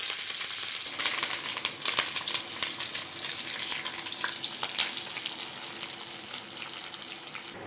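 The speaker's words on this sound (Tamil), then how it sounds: "4 மிளகாய் போட்டு தாளிச்சிக்கலாங்க. அது கூடவே 2 கொத்து கருவேப்பிலை தாளித்து சேர்த்துக்கலாம்." Four chillies and two sprigs of curry leaves sizzle and crackle in hot oil while tempering, a loud, steady frying hiss with a sharp burst near the start.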